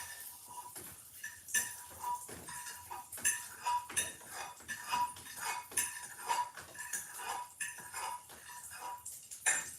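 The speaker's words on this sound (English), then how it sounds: "We're going to get the garlic cloves out of this pan." Metal utensils scrape and clink against a pan while garlic cloves are cleared out, with irregular, close, repeated scrapes and taps throughout.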